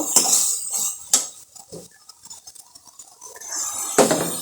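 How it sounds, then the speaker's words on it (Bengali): A metal spatula clinks and scrapes around a cooking pan of prawns with ridge gourd in gravy, with a few sharp knocks and softer stirring scrapes between them. "এবার আমি ভালো মতো কষিয়ে নিব"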